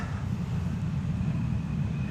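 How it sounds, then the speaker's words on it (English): A tractor sowing a farm field rumbles with a steady, low drone heard from a distance, carried on the wind at a leisurely pace. "The wind is blowing in my direction, so I can hear the tractor quite well."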